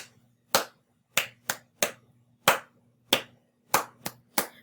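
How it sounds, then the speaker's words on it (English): Sharp claps or taps in a simple rhythmic pattern of longer and shorter beats for a music rhythm exercise, about nine distinct hits spaced unevenly over a faint steady hum, with no talking. "And you'll hear them clapping or tapping."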